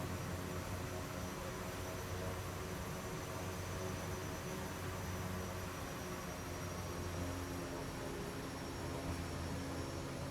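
A DHC-6 Twin Otter taxiing in the X-Plane 11 flight simulator gives a steady, continuous turboprop drone with a broad, hissing roar that stays level throughout and never breaks off.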